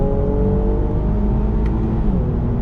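Infiniti Q60 Red Sport 400 engine pulling hard on throttle in third gear, a steady loud drone with rising harmonics and a constant road and wind whir, no talk over it.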